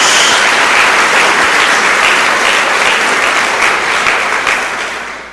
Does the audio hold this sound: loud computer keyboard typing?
no